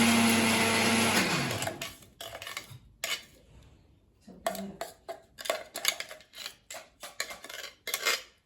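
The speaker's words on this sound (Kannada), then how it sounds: "ಚೆನ್ನಾಗಿ ಮಿಕ್ಸಿ ಮಾಡಿ" Mixer grinder blending raw tamarind with green chilli, garlic and cumin, a loud steady whir for about two seconds that winds down, followed by short pulsed bursts and the clatter of the jar.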